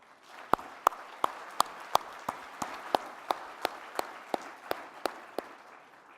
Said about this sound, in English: Let us give all of them a round of applause.